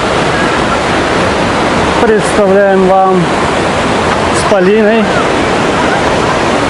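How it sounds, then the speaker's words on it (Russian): The Alibek waterfall in Dombai, fed by a glacial river, pours as a loud, steady roar of falling water throughout, with a voice speaking briefly over it twice. "Алибекские водопады."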